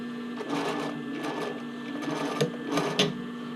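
Sewing machine stitching a sports bra neckline, a close rapid mechanical whirring in short bursts with stops between them.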